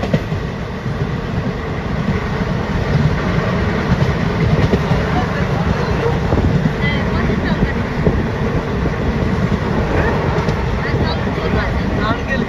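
A moving passenger train on the Kharagpur to Goa route gives a continuous deep rumble with rattling and clacking throughout, heard steadily and loudly from on board.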